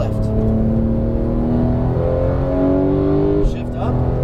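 A Porsche 911 GT3 (991) engine on a racetrack climbs steadily in pitch under throttle, loud and close, then drops sharply around a gear shift and pulls again; an instructor talks over it.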